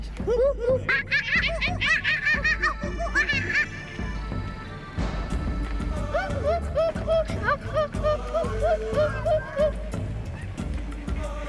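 A human voice imitates a monkey with rapid high-pitched chattering hoots that shift into a lower rhythmic run of whooping cries, loud and close.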